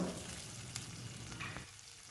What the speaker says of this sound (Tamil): வெங்காயம் லைட்டாக வதங்கி வரட்டும்